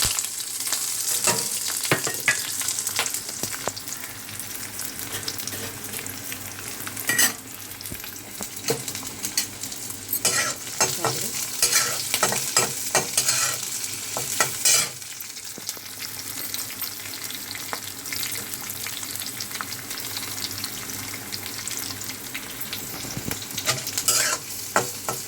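Onions frying in hot oil in a kadai on a gas stove, a continuous close crackling sizzle with frequent stirring clatter throughout, no voices.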